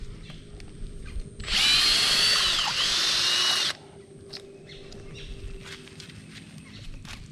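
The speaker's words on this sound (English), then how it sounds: "put the drill in reverse." Cordless drill running in reverse to back out a heavy duty tent peg: one loud, steady whirring burst of about two seconds, close by, then quiet outdoor background with light footsteps.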